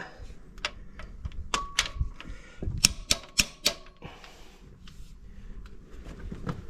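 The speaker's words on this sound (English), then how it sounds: "So the little gun is tightening them as tight as it needs to be." A torque gun tightens the nuts on a Dromone hitch fitted to a Massey Ferguson 3690 tractor, giving a quick burst of sharp, close metallic clicks amid workshop rattles and knocks.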